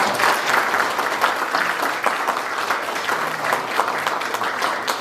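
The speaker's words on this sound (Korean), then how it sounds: "큰 환영의 박수 보내주세요" A seminar audience at the National Assembly members' building claps in welcome for a lawmaker, a dense, even round of applause lasting throughout.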